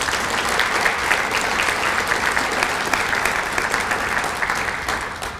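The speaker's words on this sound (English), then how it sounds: "Let's give them a round of applause," A crowd at an athletic hall of fame awards ceremony applauds honorees, loud, dense, steady clapping filling the room and fading slightly toward the end.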